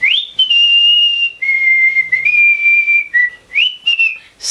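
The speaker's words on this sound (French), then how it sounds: "Dans ce film, Merejkovski sifflote l'international durant 5 secondes." Whistling of the Internationale, a clear, loud melodic line of sustained pitches with brief breaks between phrases, performed alone with no talk.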